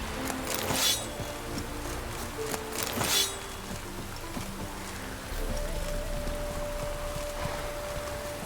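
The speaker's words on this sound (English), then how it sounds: "No use doing any work in this rain." Steady rain falls in The Witcher 3: Wild Hunt, a continuous wash of patter that holds throughout, with a few louder splashy bursts early on and a faint low tone entering partway through.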